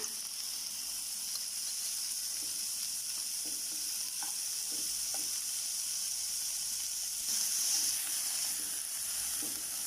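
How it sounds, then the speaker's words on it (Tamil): Onions and ginger-garlic paste sizzle steadily in a hot pan for a kofta curry, a continuous frying hiss with occasional soft stirring scrapes and a brief louder surge near the end, no talking. "இஞ்சி பூண்டு வெங்காயமும் கொஞ்சம் நல்லா வதங்கட்டும்"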